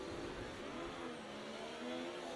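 A Ferrari Formula 1 car engine in the F1 24 racing game hums as a faint, continuous drone with slight shifts in pitch, heard alone.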